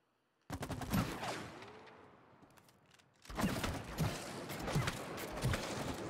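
Rapid bursts of gunfire in the video game It Takes Two, a rattling volley, a brief lull with a mechanical creak, then more repeated shots pulsing at a steady rhythm, fairly loud.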